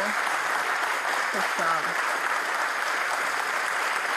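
A studio audience at a Turkish television quiz show applauds in a steady, even wash of clapping that runs the whole time, with a voice briefly speaking over it.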